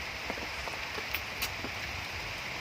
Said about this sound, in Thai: ตอนนี้ฝนไล่เรามาอีกแล้วนะครับผม